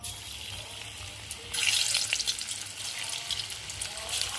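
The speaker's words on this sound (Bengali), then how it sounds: "এই কোপ্তেগুলোকে এবার এই তেলে ভেজে নেব।" Bottle gourd kofta balls drop into hot oil and begin frying, a bright crackling sizzle that jumps up partway through and keeps bubbling close by.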